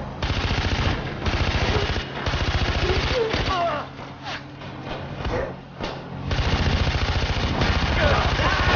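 Loud bursts of automatic machine-gun fire in Far Cry 4, rapid rattling volleys with brief pauses mid-clip before firing resumes, with a voice shouting over the gunfire.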